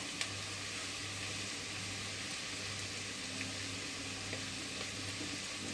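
Potatoes sizzling in a pan alongside clams, a steady, dense frying hiss with faint crackles, continuous and fairly close with no voices.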